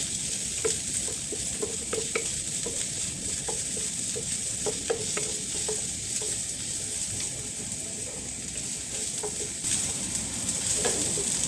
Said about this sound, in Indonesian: kita tumis bawang merah, bawang putihnya dulu. Nah, ini ditumis sampai harum.